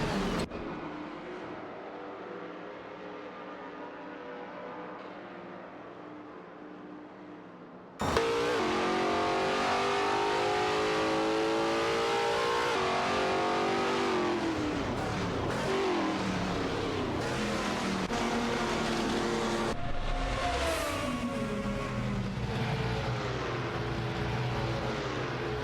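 Race cars in an AI racing video game roar past while overtaking, first a quieter, muffled engine drone, then a sudden loud burst of several engines revving and shifting gears together, pitches sweeping up and down as the cars jostle. No speech.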